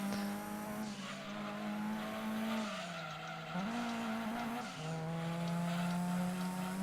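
Gran Turismo 2 racing game car with a steady engine drone whose pitch dips and lurches as the car jerks, mixed with skidding tire noise, continuous and fairly loud with no talk.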